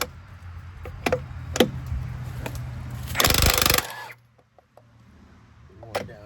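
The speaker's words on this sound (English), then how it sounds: "Just line it up with the lug nut, and it takes it off no problem." A Milwaukee M18 Fuel 1-inch cordless impact wrench spins a lug nut off a wheel, with a few sharp clanks around a loud, roughly half-second hammering burst, then quiet handling and a final clink.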